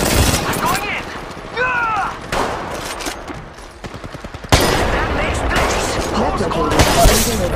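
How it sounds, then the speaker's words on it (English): Rapid gunfire in the mobile shooter Apex Legends Mobile, dense overlapping shots and mechanical weapon noises mixed with game effects, loud and close, with voices talking over the action. "Opening fire."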